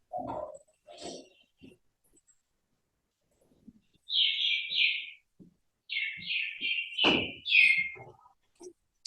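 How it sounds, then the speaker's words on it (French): Parrot and other bird calls come in two bursts of repeated high chirps, fairly clear, with brief soft voice-like sounds near the start. "Il y a les oiseaux derrière."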